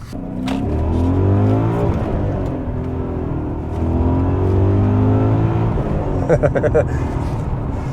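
A 2001 BMW E39 M5 engine accelerating through rising revs in two long pulls with stability control off, loud and close, with a few sharp clicks near the end.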